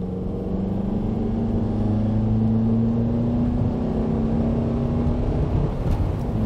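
A Honda car with an intermittent delayed transmission shift accelerates in first gear, its engine droning steadily with a rising tone held throughout, heard alone without speech.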